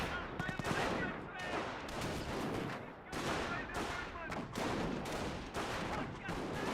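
Rifle squad gunfire in Company of Heroes, with dense overlapping bursts and volleys crackling almost continuously in loud, repeated waves of battle noise.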